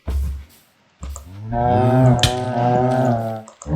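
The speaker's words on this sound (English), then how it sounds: "The tainted cow will actually prioritize you over other creatures" A tainted cow from the Minecraft modpack Blightfall moos in a long, loud, drawn-out low call with a rising harmonic sweep, following two short grunting bursts, close and alone with no talk.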